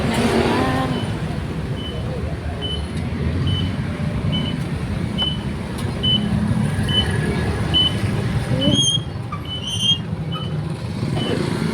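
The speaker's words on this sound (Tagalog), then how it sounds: "Traffic na naman." Steady road traffic on a busy morning street, a continuous broadband rumble of cars and trucks with occasional brake squeals and a horn-like tone near the end, fairly close and constant.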